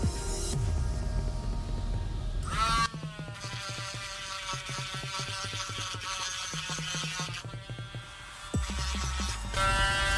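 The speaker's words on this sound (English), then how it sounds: "I'm going to sand that down" A handheld rotary tool sanding down an epoxy resin pen, a steady high electric whine with harmonic buzz that cuts off and restarts several times, close and fairly loud.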